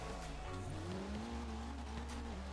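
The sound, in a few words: car driving in video game Forza Horizon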